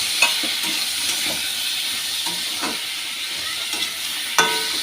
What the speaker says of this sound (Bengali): এবার সমস্ত মশলার সঙ্গে আলুটাকে কষিয়ে নিতে হবে